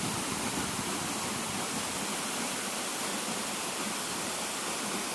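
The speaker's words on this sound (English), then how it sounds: "This is Dholo waterfall." Dholo waterfall in Kediri pours down in a steady, loud, broadband roar of falling water that stays constant throughout with no pauses.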